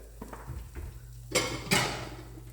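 A pan of fish nearly cooked dry is shaken on the stove, giving a few soft scrapes and then two sharp metallic clatters close by, with no talk.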